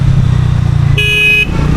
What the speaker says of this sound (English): loving the exhaust note. Exhaust note sounds louder here for some reason.